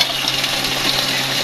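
Lentil dumplings (bori) fry in a pan with oil, giving a dense, steady sizzle that runs loud and close for the whole moment.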